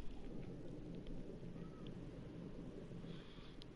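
Steady heavy rain with a low rumbling thunder bed from a rain machine in the video game Limbo, continuous and even with no talking.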